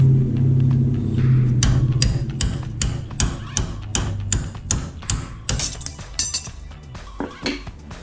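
Sharp metallic strikes ring out repeatedly at close range, irregular hammer blows on a metal suspension traction arm of a G35 sedan, following a low rumbling hum.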